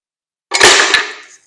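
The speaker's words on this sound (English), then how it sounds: "And it slams the door behind and the sparrow's in there." A small live sparrow trap in a bluebird nestbox snaps its door shut with one sharp, close bang followed by a brief metallic rattle, loud and alone with no talking.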